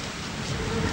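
Rain falling, a steady dense hiss that is fairly loud and continuous with no other sound over it.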